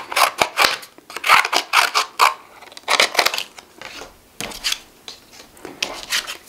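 Paper stickers of Numberblocks characters snipped with scissors, a rapid run of close, crisp cuts in bursts with brief pauses between them.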